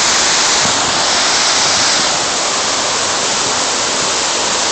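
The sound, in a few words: waterfall rushing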